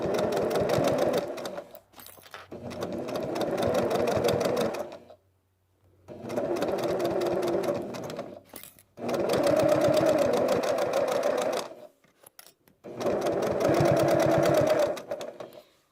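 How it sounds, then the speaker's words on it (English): A sewing machine stitches curved quilt-as-you-go blocks in four long, steady whirring runs, each a close rapid needle rattle separated by short pauses, with no talking. "drop my needle, and start sewing"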